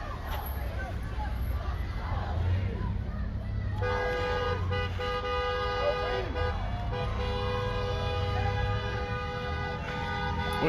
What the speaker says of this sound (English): that honk beep, that car horn